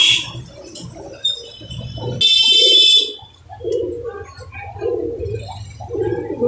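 Black pigeons in breeding condition coo in low, rolling repeated phrases at close range, with a brief buzzy rattle and a few high chirps between the calls.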